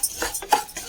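Toor dal (parippu) dry-roasting in a pan for payasam, with a few quick, close scraping clinks of a spatula against the metal pan.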